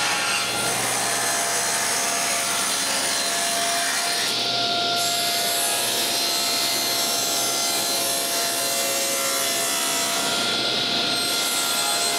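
Wood cutting on one of a set of wooden shelves, both ends trimmed, gives a loud, steady rasping saw noise that runs unbroken with no talk, easing briefly twice partway through.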